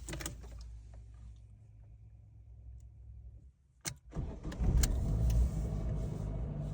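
Ford Ka with a manual gearbox, its key turned: a faint idle hum, a brief pause, then a sharp starter catch and the engine firing up to a louder, steady run close by.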